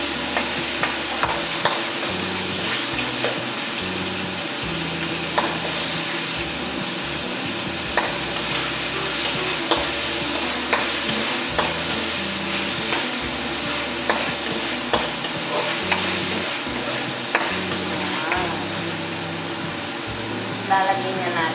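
Onion and garlic sautéing in a pan for Filipino ginisang upo, with continuous sizzling and repeated spatula stirring and scraping, close up while music plays beneath.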